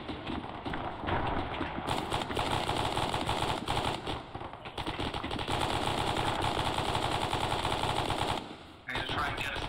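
Sustained automatic gunfire in the Arma 3 military video game, dense rapid bursts rattling almost continuously with brief gaps, fairly distant and steady, with radio voices talking at times.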